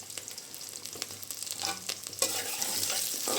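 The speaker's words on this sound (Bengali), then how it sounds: "পেঁয়াজটা একটু ভেজে নিয়েছি" Chopped onions and three dried red chillies frying in a hot pan with salt, a steady close sizzle with stirring scrapes that grows louder toward the end, no voices.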